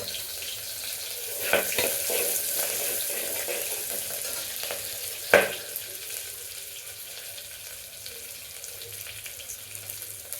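Curry leaves and chopped onion hit hot oil in a pan for a Karnataka-style dal saaru, giving a steady hissing sizzle with a couple of sharp clatters from a spoon or pan along the way.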